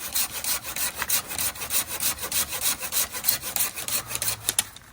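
A hand saw cuts through a mesquite tree branch in steady back-and-forth strokes, close and rhythmic, about ten even rasping passes with no talk.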